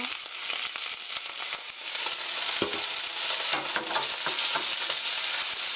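Chopped onion and green bell pepper stir-fry in a pan for a tomato sauce rice bowl, giving a loud, steady, crackling sizzle with scattered sharp pops and scraping stirs throughout.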